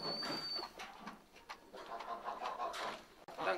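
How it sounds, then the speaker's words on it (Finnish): A pet turkey gobbles and clucks in a dense burst of rough, repeated calls with a brief high squeal at the start, fairly close and continuous. "Tän kalkkunan nimi on Spede."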